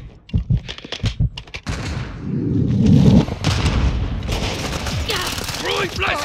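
A grenade detonates in Call of Duty Modern Warfare 2 multiplayer, a loud sustained blast and rumble amid scattered gunfire thumps, with shouted voices calling out in the background.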